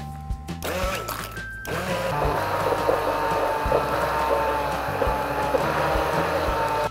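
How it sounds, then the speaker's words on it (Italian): A blender purées pumpkin and orange soup with a steady, loud whirring drone that runs almost throughout after a few brief starts at the beginning. "Aggiungo il succo dell'arancia e vado a frullare."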